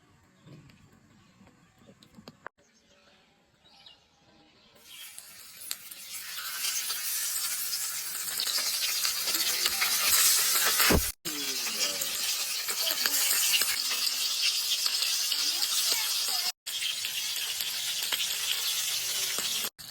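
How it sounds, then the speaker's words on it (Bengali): Tilapia fish fries in oil: near-silent handling gives way to a loud, steady hiss and crackle of sizzling that runs on with only brief cuts. "মাছ ভাজা হয়ে গেছে তো এখন আমি তুলে নেব"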